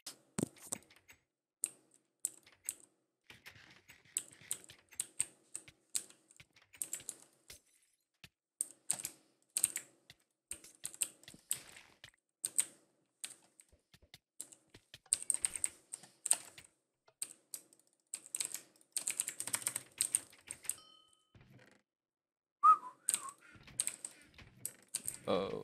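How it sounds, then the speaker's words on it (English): Rapid, uneven typing on a Ducky Shine Mini computer keyboard, crisp close key clicks in bursts with short pauses, used while playing a Minecraft-style game, with no talk over it. "this keyboard's the Ducky Shine Mini"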